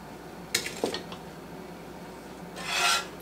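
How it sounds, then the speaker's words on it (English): A utensil scrapes and rasps against a pan as flour, oil and whole milk gravy is stirred for Southern chicken fried steak. Two short, close scraping bursts come early and near the end, with quiet between and no talking. "stir until I get it as thick as I think I want it."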